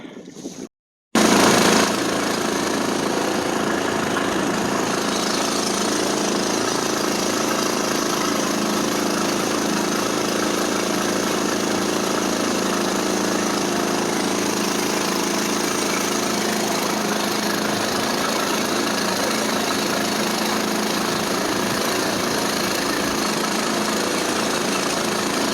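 A Mud-skipper longtail mud motor on a small boat runs at a steady drone with its exhaust, loud and close, continuous after a brief start-up gap.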